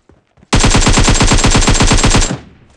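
Loud, close burst of rapid automatic gunfire in the mobile shooter PUBG Mobile, a fast even string of shots lasting about two seconds before cutting off, no talk.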